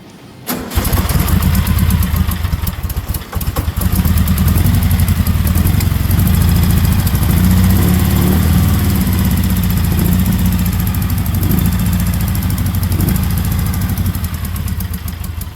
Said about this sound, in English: Go ahead and try to start her again.